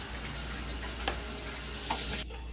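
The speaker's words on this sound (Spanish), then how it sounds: "Vamos a estar revolviendo para que se deshaga" A spoon stirs a dark sauce as a chocolate tablet melts into it, with a soft steady scraping and faint sizzling, two small taps and no talk.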